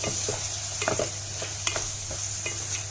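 Chicken liver frying in a pan while being stirred, a constant bright sizzle with a low hum under it and scattered light spoon scrapes and taps throughout.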